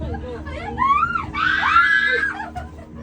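Excited screams from people on an amusement ride at Yomiuriland rise and fall in a group, mixed with laughter and shrieks, loud and close over a busy background rumble.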